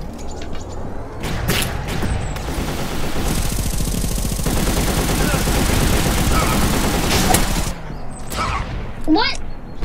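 Rapid gunfire from a double-barrel shotgun and a combat rifle in the Repuls.io shooter game, dense bursts and booms sounding almost continuously and loudly for about ten seconds, with a voice briefly present.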